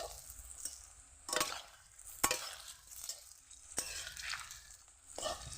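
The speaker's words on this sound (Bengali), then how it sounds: "এরকম একে একে আমি সব তেলের ভিতরে দিয়ে দেব" Beet fritters (piyaji) frying in hot oil, with soft bubbling sizzle and repeated louder scraping bursts as pieces are turned over in the pan, fairly faint overall.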